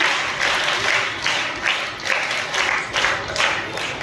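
Schoolchildren perform a scout guide clap at a school speech competition, a loud crowd clap falling into repeated rhythmic bursts with short pauses, roughly every half second toward the end.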